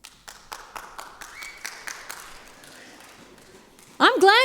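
Congregation clapping, a steady run of close, evenly spaced claps that slowly thins out, then a voice starts speaking loudly at the end.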